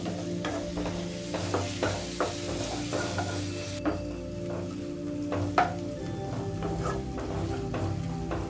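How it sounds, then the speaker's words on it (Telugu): Ginger garlic paste being stirred into browned onions frying in a pan for an aloo tomato curry, with repeated close scraping strokes of a spoon over a steady low sizzle. "ఇప్పుడు ఇందులోకి పావు చెంచా అల్లం వెల్లుల్లి పేస్ట్ ఈ అల్లం పచ్చివాసన పోయేంత వరకు కలుపుకుందాం"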